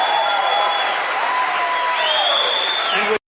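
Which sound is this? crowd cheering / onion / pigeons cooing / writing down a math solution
crowd cheering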